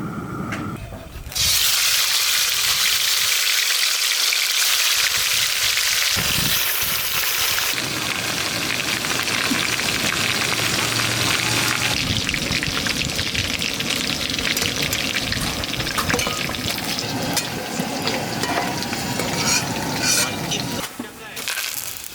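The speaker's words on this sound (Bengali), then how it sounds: "কড়াতে তেলটা দিয়ে দিচ্ছি।" Oil goes into a hot kadai, then chicken pieces fry for a Kerala-style banana leaf chicken roast. A loud, continuous hiss and crackle swells in and holds steady, close by, with faint voices underneath.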